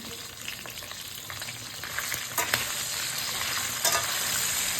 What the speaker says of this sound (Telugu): మనం రెడీ పెట్టుకున్న మిరపకాయలు కూడా వేసి సిమ్లో పెట్టి వేయించుకోవాలి